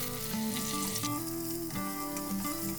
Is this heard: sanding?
no